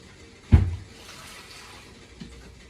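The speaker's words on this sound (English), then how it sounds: "Okay, add some water." Water splashes into a pot of thick butter for Togolese abolo, one sudden pour near the start that quickly fades, then a softer second trickle later, close and fairly loud.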